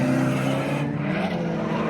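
A BMW E30 race car fitted with an LS engine accelerates hard on a track, its loud steady engine roar mixed with tire squeal and no talk over it.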